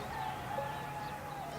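Chickens clucking steadily at a Bedouin farmstead in degraded desert land that also keeps camels, donkeys, goats, sheep, pigeons and ducks; a continuous, moderately distant murmur with no talking.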